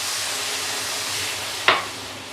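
Semolina cooking with milk in a pan gives a soft, even sizzle, broken by one quick scrape of a stirring spoon that fades back into the hiss. No voices.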